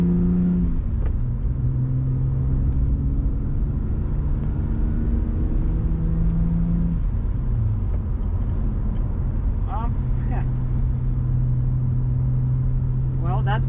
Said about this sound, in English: that's the sound of the exhaust